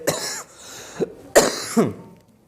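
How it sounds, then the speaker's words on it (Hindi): Someone with a sore, scratchy throat coughs several times in short, separate bursts, some harsh and some throat-clearing, close and fairly clear against a quiet background. "थोड़ा गले में खराश है, खांसी आ रहा है।"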